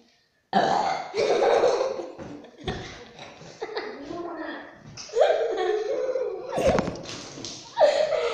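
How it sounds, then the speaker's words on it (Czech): A man burps loudly and at length, a rough drawn-out belch, amid laughter and chatter from a few people playing a make-me-laugh game. "Já jsem se jenom krknul"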